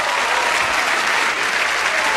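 Crowd at the Apollo Theater during a 1987 talent-show broadcast bursts into dense, loud, sustained applause, a thick roar of clapping hands with a few faint cheers underneath.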